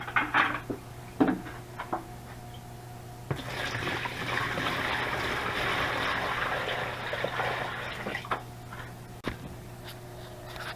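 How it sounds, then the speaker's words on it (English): A plastic bucket for an axolotl tank is filled from running water, a steady broadband rush lasting several seconds between scattered knocks and handling clatter, close and moderately loud. "now it's time to fill it with water"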